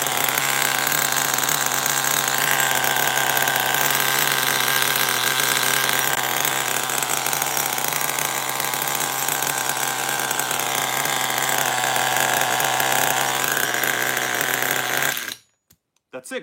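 An HPI G3.0 nitro engine in an RC car screams loudly and steadily close up for about fifteen seconds, wavering slightly in pitch, then cuts off abruptly into near silence.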